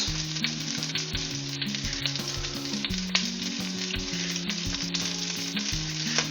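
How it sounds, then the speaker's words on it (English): Leftover soup sizzling in a hot pot as it is stirred, a steady close crackle with faint utensil taps over a quiet musical backing. "Stir it around"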